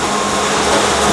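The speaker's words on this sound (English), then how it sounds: "And now the machine begins the operation. We're going to start bending what's on the first side" Automatic sheet metal bending machine folding the first side of a coping part, a steady loud mechanical whir and hum with broadband hiss holding constant throughout, no voices.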